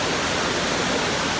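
Waterfall in the Brecon Beacons National Park, a dense, unbroken roar of falling water, loud and close, with no other sounds.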